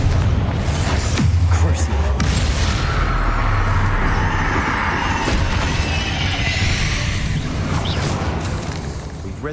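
Repeated Confringo fire-blast spells in Hogwarts Legacy, booming bursts over a dense, loud game soundscape inside a spider-infested tomb, with talking throughout.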